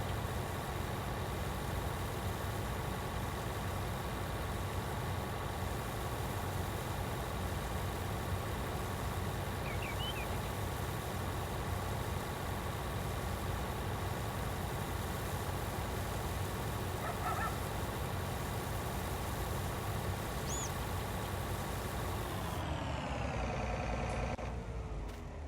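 A tractor engine in Farming Simulator 19 drones steadily at an even pitch, loud and continuous, with faint brief chirps over it, then drops away near the end. No one speaks.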